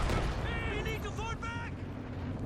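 Artillery fire in Company of Heroes 2 makes a dense, loud booming rumble that runs throughout, while a commentator talks over it.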